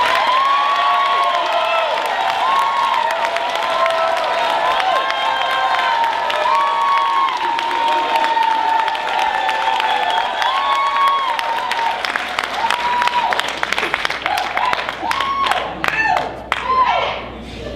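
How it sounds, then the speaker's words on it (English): Applause mixed with cheering and whoops from a crowd at a 2013 Jersey City Heights mayoral forum, greeting a councilman; loud sustained clapping with voices shouting over it, rising toward the end. "Let's have a round of applause for Councilman Stephen Fulop."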